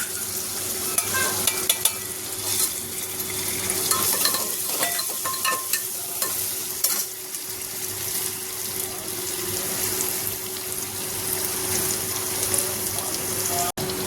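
Whole spices fried with browned onion in a pan for peas pulao: a steady sizzle carries on throughout, with frequent scraping stirs and clattering spoon taps nearby.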